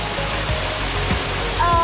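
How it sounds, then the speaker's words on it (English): The waterfall at Blowing Rock makes a constant, close, roaring hiss of rushing water, loud and even from start to finish. "This waterfall?"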